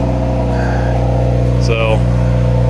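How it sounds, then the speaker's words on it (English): A car engine revs loud and steady right after a cold start, a deep constant drone with strong low harmonics lasting throughout, with a voice talking over it. "that really obnoxious, loud, cold start"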